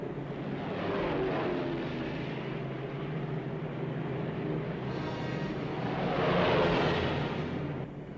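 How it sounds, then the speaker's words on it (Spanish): A formation of 177 B-24 bombers roars down a North African desert runway in August 1943, a dense, continuous engine drone that swells and fades slightly, heavy and close. "177 B-24 aceleran por la pista del desierto africano."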